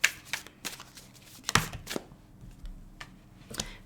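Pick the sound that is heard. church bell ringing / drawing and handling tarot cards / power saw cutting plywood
drawing and handling tarot cards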